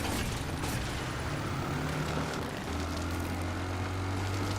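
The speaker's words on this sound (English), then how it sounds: "Okay, motorcycle minigame." A motorcycle engine in the video game Resident Evil Requiem, during a motorcycle minigame, drones steadily and loudly throughout, its low hum dropping to a deeper, stronger tone partway through.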